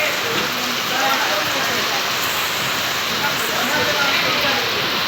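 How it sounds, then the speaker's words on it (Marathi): Steady rain falls throughout, a dense hiss of drops hitting surfaces with no break, close and moderately loud. "पाऊस आलं जरा बरं वाटते"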